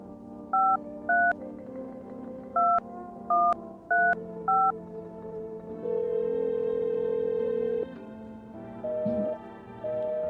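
A telephone number is dialed in the video game No I'm Not A Human: six short keypad tones beep in an uneven rhythm, followed by a longer steady tone and a couple of brief tones, all over quiet game music.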